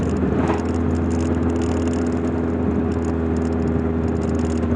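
Engine drone and road rumble inside a Lotus Excel on the move, a loud steady hum with tyre and wind noise, constant with no gear changes.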